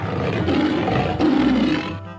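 Lions roaring in a pride, deep rumbling roars rising and swelling twice in succession, loud and close, with no talk.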